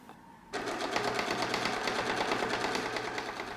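Sewing machine starts after a short pause and runs fast, stitching a fabric drawstring bag from scraps, a rapid even mechanical clatter heard close and alone.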